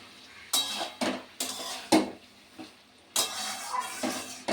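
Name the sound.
stirring flour into spinach in a cooking pan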